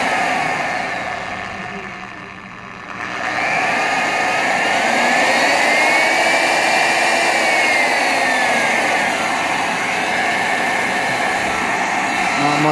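A 2014 Orbitalum GF 4 120V single-phase pipe saw switches on and runs at steady variable speed, a loud continuous motor whine with a rising-then-falling pitch, starting after a brief quieter moment near the start.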